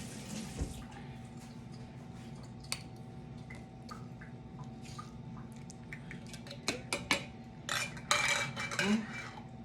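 A metal fork clinks and scrapes among jars and utensils in a kitchen during salsa canning, with scattered light taps and a busier cluster of clatter near the end over a steady background hum.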